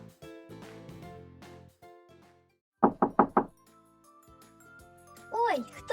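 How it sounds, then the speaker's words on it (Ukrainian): Four quick, sharp knocks on a door sound close by, in a children's early-learning setting with a toy rabbit and its friends, set among someone speaking in a lively voice before and after. "це до мене стукає? Зараз відчиню двері і подивлюся."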